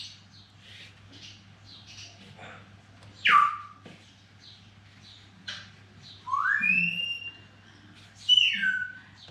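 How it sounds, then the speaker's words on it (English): A pet parrot squawks and whistles from the background of a quiet room, with several loud, sharp rising and falling calls spaced between softer chirps. "Sorry about the parrot in the background, guys."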